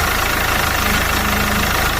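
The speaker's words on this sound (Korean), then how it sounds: "자, 지금 본넷을 열고 시동을 킨 상태입니다." A 2013 SsangYong Korando C with around 160,000 km idles with the hood open, a steady, even engine hum with a low regular pulse heard up close and nothing else over it.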